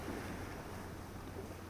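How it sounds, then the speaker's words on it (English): A steady, low wash of ocean surf rolls continuously onto a sandy beach, soft and distant, with no distinct individual breaks and no voices. "Focus all of your attention on the movement of the waves."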